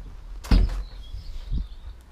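A heavy steel door on a 1956 Morris Minor swings shut with one solid, close thunk, then a softer knock about a second later, with no talking.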